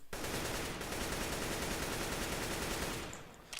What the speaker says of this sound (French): Je vous conseille de tirer 3 balles, et puis de vous accroupir, tout simplement, regardez.